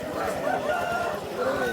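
A rooster crows at the Vijayawada rooster market, drawn-out calls rising and falling over a busy background, with people talking nearby.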